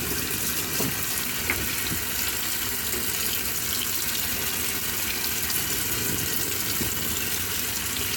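Washing machine on a casual cycle filling with water, a continuous rushing, hissing inflow heard close and steady with no talking.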